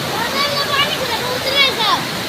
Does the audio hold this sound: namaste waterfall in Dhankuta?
yes